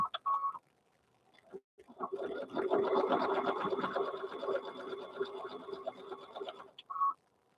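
A sewing machine runs a short back stitch through a teddy bear's fabric, a steady mechanical whirr of about four seconds between brief pauses, close by and loud, with a softer burst just before and a quick one after.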